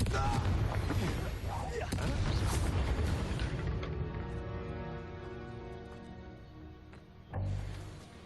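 Fire spell blast in Hogwarts Legacy on Switch, a dense rumbling roar that fills the start of the clip and then fades slowly under a musical tone, with a second thump near the end.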